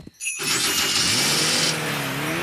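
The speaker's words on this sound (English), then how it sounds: "It sounds like a fairy car on a cold day" A cartoon fairy car starts on a cold day: a short sputter, then a loud, steady whirring engine drone that holds for a couple of seconds with a rising tone near the end.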